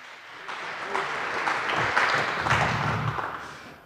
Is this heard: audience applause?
yes